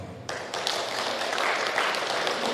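Applause from an audience at an evening welcome gathering of a regency government and police chief, a steady wash of many hands clapping that starts abruptly and holds at moderate loudness.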